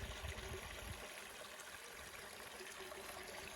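A small spring-fed stream trickles and babbles steadily at Pickle Creek Natural Area, a soft continuous wash of water with no voices, a little louder in the first second.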